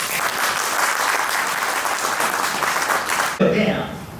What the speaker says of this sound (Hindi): एक थोड़ा हौसला दीजिए मुझे तालियों के साथ में।